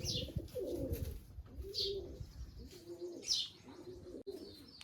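A captured pigeon coos in a repeated series of soft, throaty calls close by, with a few higher chirps in between and faint rustling, and no talk over it.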